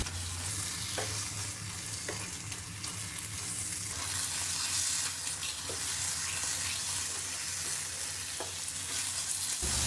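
Masala paste sizzles and fries in a pan for matar paneer, a steady broadband hiss with intermittent scraping clicks of a spoon stirring it, close and continuous without any talk.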